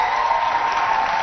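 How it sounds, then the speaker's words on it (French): A short burst of audience applause for a student contestant on a French school quiz show, continuous, dense clapping at steady loudness with no voices over it. "Applaudissements pour Mariam."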